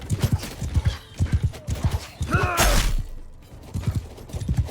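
Horses gallop in a fast, steady clip-clop of hooves in the Mount and Blade II Bannerlord video game, with a whinny and a sharp crash partway through, loud and close.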